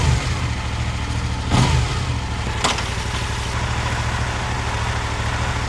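Motorcycle engine running steadily just after an oil change, a close, rumbling idle with one short rev surge early on and a fainter blip a second later, no voices.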